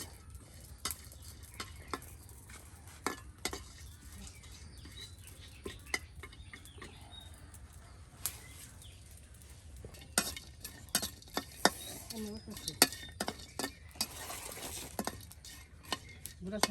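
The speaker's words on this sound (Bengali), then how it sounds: "একসাথে কিন্তু রসুনও আপনার শুটকির সাথে বেজে নেওয়া হবে।" Desi dried shrimp frying with garlic and chillies in a pan in a village kitchen on a rainy day: faint, low sizzling under frequent light clinks and scrapes of a stirring utensil, getting busier toward the end.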